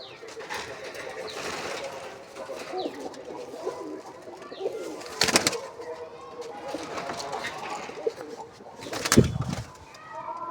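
Domestic pigeons coo in soft, repeated rolling calls inside a loft, with two sharp bursts of wing flapping and thumps and a voice faintly in the background.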